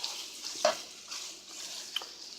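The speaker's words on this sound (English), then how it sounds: "So I've got my andouille sausage in there, sauteing my peppers and onions." Andouille sausage with peppers and onions sautéing in a pan, giving a soft, steady sizzling hiss broken by a brief clink of a utensil around the middle; no voices.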